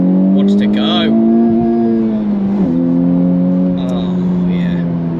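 A Honda Civic Type R GT hot hatch engine revs hard and holds a high, steady drone, pitch rising and dipping slightly as it accelerates, loud and close.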